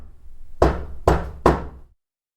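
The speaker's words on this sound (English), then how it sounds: "3 slow knocks. Not from room 3 this time, from the elevator doors." Three slow, heavy knocks on elevator doors, evenly spaced and close, each with a short resonant thud, followed by silence.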